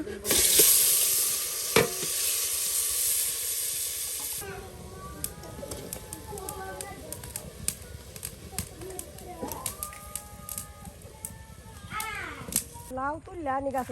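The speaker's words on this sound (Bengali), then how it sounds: "কষানো মশলার সাথে মাংসগুলো একদম মিক্স করে নেওয়া হচ্ছে" Meat being stirred and fried with cooked-down spices in a village kitchen, a loud sizzle at first that eases into quieter crackling with spoon scrapes, overlaid by a voice talking.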